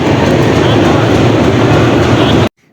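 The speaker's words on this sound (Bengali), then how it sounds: "এই যে আমাদের ট্রেন চলে এসেছে" A metro train pulls into a station platform, a loud, steady rumble and rolling rail noise filling the space before cutting off abruptly.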